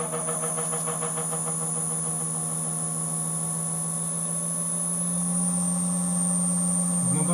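A permanent magnet generator runs at speed, feeding about 270 volts to a grid inverter, producing a loud, steady tonal hum with a high-pitched whine that shifts slightly in pitch midway.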